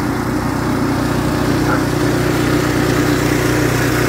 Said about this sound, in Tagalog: yung po yung ginagamit ko sa pag-blow po ng snow